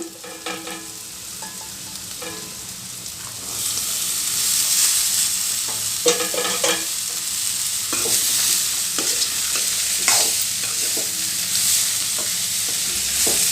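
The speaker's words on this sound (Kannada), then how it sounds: "ಈಗ ಬೇಯಿಸಿರೋ ಅಂತ ಅಲಸಂದಿ ಕಾಳು ಹಾಕ್ತೀನಿ" Boiled black-eyed peas being stirred and fried in a pan, a steady loud sizzle with repeated scraping and clinking strokes of a spoon, the frying growing stronger after the first few seconds, with no talking.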